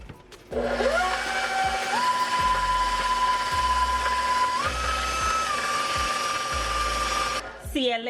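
An electric mixer beats butter, sugar and egg together for a Jamaican rum cake cheesecake, giving a steady, loud motor whine that shifts pitch a few times as the speed changes, with the beaters churning through the batter.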